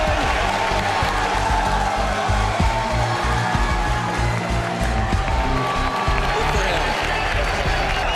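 A large NFL draft crowd roars and applauds in a continuous dense wash of cheering and clapping, loud and sustained, with a commentator talking over it.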